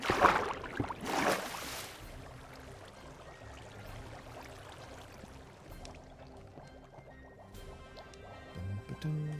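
Flowing water in the Minecraft video game: loud pouring bursts at the start, then a quieter continuous trickling and bubbling.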